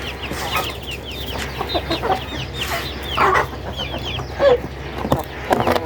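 Chickens in an iron coop cluck and squawk up close, with repeated overlapping calls and a few louder sharp cries over a low background hum.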